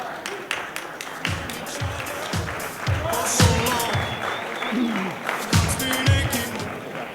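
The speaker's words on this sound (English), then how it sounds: "How about a nice round of applause, everybody?" Wedding guests break into applause during the toasts, a fairly close wash of clapping with voices talking over it.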